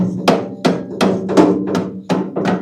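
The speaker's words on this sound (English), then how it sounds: "Now, I have to pound this thing in the rest of the way" Seven sharp, evenly spaced hammer blows ring out as a part is pounded into place on a metal machine during disassembly, each strike loud and close with a brief metallic ring and a low hum underneath.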